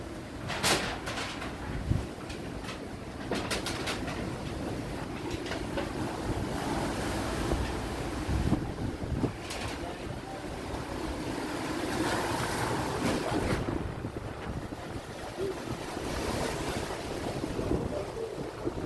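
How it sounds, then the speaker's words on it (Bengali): River waves wash against an eroding shore right beside a house on Boyar Char, Hatiya, Noakhali, as a constant rough churning roar mixed with gusting wind buffeting the microphone, with no talking. "একবারে ঘরের কিনারেই ঢেউ চলে আসছে।"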